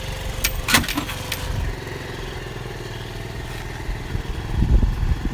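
A Chinese scooter with a freshly cleaned carburetor runs during a ride, its engine droning steadily and close with a few clattering knocks at the start and a louder surge of revs near the end.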